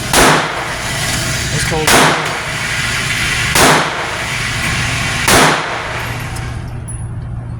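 Four loud, sharp shots from a Hi-Point C9 9mm pistol firing Veteran ammunition outdoors, evenly spaced about every one and a half to two seconds, with someone speaking briefly between them.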